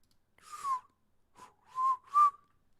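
A person whistles a short tune: a few clear, thin notes with gaps between them, faint and alone in otherwise near silence.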